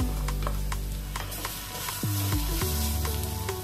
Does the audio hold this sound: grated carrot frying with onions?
yes